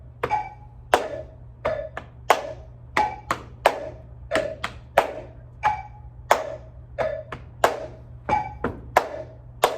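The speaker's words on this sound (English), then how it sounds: "Chest, clap, chest, clap. Thigh, clap, thigh, clap." Body percussion in a rock and roll routine: alternating chest pats and thigh pats with sharp hand claps, a steady rhythmic pattern of about two hits per second, close and clear, with no talking over it.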